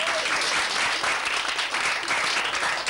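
An audience applauds an inspector: dense, steady clapping from many hands fills the room at a constant loudness throughout, with no break.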